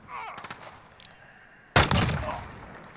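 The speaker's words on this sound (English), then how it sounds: "I'm going to switch to single fire now, and we'll see if we can get some semi-auto shots downrange" Single semi-automatic shot from a SIG SG 550 rifle in Call of Duty Modern Warfare: faint clicks and handling noise first, then one loud, sharp report with a lingering echoing tail.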